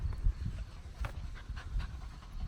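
A dog pants steadily outdoors on a breezy day, quick rhythmic breaths over low rumbling wind noise, fairly faint and close.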